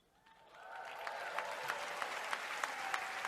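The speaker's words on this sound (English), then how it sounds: "Pause for applause." Applause from a large Google I/O keynote audience swells up from quiet into a broad, steady roar of clapping, punctuated by occasional sharper claps and whoops.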